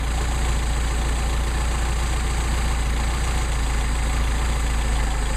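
A Mercedes 190SL engine with a Solex carburetor idles being tuned, a loud, steady, close rumble with an even low throb that holds unchanged throughout, with no voices.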